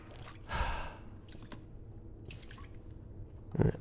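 Water drips in the Resident Evil 2 video game as sparse, soft, wet plinks and splats. A few scattered drops fall over a quiet, low ambient hum, with one louder splash near the end and no speech.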